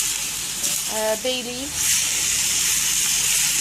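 Black pepper, bay leaves and Arabic spices sautéing in a pan for a rice dish give a steady broadband sizzle throughout, with a person speaking briefly over it near the start.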